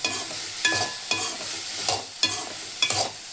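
Turkey berries (sundakkai) roast in ghee, sizzling steadily while a spoon scrapes and stirs them in rhythmic strokes about every second, close up with no talking.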